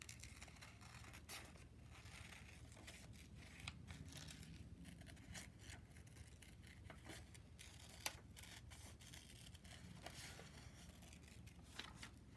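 Scissors snip steadily through paper, cutting along solid printed lines around a wine glass shape, a soft continuous run of close, quiet cuts and paper rustles with no talking.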